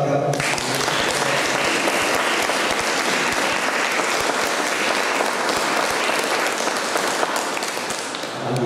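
Loud, sustained applause from a concert audience in Rakovník, dense clapping that fills the whole stretch at an even intensity without pause.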